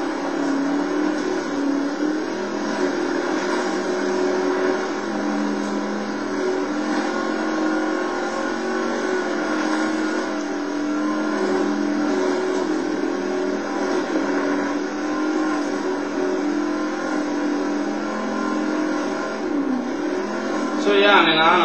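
Off-road race vehicle in the BAJA Edge of Control racing game at the SCORE Baja 500, its engine droning steadily and loudly throughout with shifting revs during a drift.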